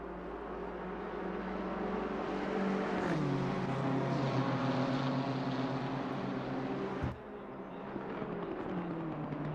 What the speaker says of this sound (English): Looks like that BMW may have the pace on Niall Drake